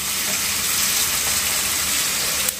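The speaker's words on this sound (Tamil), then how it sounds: "இதனால தான் நான் வறுக்கிறது" Vanjiram fish and squid frying in oil in a kadai, a dense, loud, continuous sizzle with a hissing crackle throughout and a brief knock near the end.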